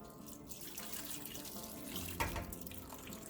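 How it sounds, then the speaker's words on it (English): Tap water pours steadily into a container of leaves for eco-dyeing paper, a continuous close running splash with a brief louder gush near the end. "And add a little bit more water here."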